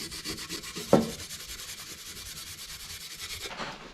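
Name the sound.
scrubbing painted metal with Scotch-Brite pad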